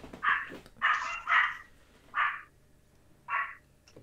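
Dog barking, heard as a handful of separate sharp barks spaced irregularly, moderately close, with a quiet background between them.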